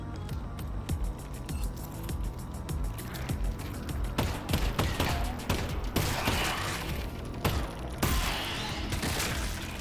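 Gunfire in Half-Life: Alyx: a rapid run of sharp shots at the start, then heavier irregular blasts and mechanical clatter, fairly close and loud.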